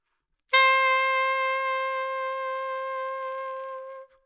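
A single sustained saxophone note starts suddenly and holds for about three and a half seconds, rich and steady with a gentle, shallow vibrato, then stops.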